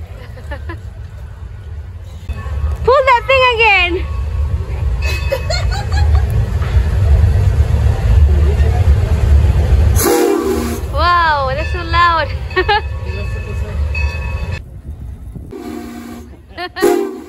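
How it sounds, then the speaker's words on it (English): A Santa Fe train rumbles steadily past at a county fair, its horn sounding in several loud blasts, with people talking over the noise at times. "This is the train."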